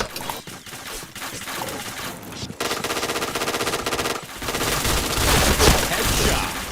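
Rapid automatic gunfire from a shooting video game, near and loud, in bursts that build into continuous fire toward the end, with no talk.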